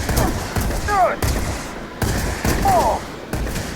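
Auto Rivet weapon in the video game Starfield whirs as it charges, then fires in bursts with rising whine-like sweeps, repeated twice across the few seconds at steady, fairly loud level.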